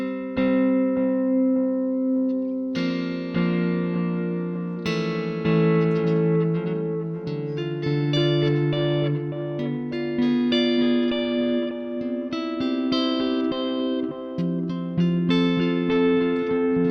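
Sustained guitar chords through a lo-fi delay pedal with its filter darkened, each strum smearing into the next with a dark, hazy, murky tone and steady volume, no voices.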